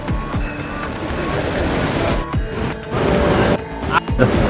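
Floodwater rushing at an old bridge in the Khadki area of Kopargaon after heavy rain, a loud continuous roar of churning water with wind buffeting and bursts of crashing, close by.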